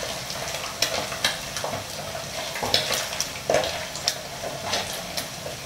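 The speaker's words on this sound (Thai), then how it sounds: "แล้วก็หมูฝอยลงมาทอดนะครับให้มัน กรอบยิ่งขึ้นนะครับผม" Shredded pork floss fries and sizzles in a pan over low heat, a steady close crackle broken by periodic stirring scrapes and soft clinks, with no voices.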